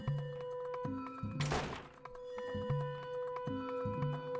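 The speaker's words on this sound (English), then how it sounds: "There's the sound of footsteps coming closer." In an RPG Maker horror game, heavy thudding footsteps approach in a slow, regular series of dull thumps over a droning tonal background, with a brief noisy whoosh partway through.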